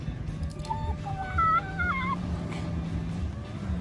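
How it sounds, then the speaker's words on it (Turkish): Short honking bird calls over a low background hum, a few squawks in quick succession, moderately loud and close, resembling a duck's quack. "Ördek."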